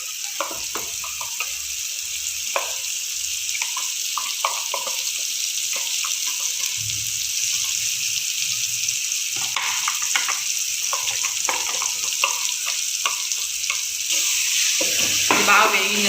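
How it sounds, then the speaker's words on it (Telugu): Ground masala paste with turmeric sizzles and fries steadily in a pan for a curry of meal maker soya chunks, a continuous close hiss punctuated by stirring scrapes, with no talking. "ఇది బాగా వేగించాల, మసాలా బాగా వేగాలండి."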